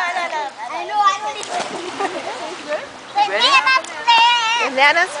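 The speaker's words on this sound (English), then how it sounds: "Fiona, we'll go jump in the water." Children shout and chatter excitedly while water splashes and sloshes around them as they jump in for a swim, voices loud and close over the irregular splashing.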